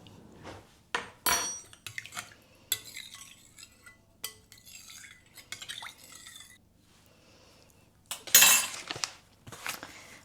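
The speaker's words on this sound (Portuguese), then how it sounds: "Eu vou misturar só para dissolver esse fermento, para ele não capsular na hora de eu colocar a farinha." A utensil stirs and clinks against a bowl while yeast dissolves in liquid for homemade bread dough, producing intermittent scraping taps and clinks with short pauses, fairly close and with no talking.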